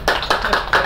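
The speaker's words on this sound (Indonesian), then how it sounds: "Sekali lagi tepuk tangan untuk para narasumber dan kita semua." Audience applause at a panel discussion, a steady round of clapping from many hands that swells in bursts across the second, close and fairly loud with no voices.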